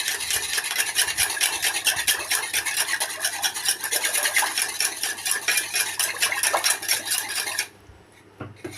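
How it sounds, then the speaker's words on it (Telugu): Curd being whisked by hand with water, salt and chili powder: a steady, brisk scraping and clinking whir, close and loud, running continuously for most of the time before stopping abruptly near the end. "బాగా గిలకొట్టుకోవాలి"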